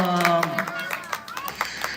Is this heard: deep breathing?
no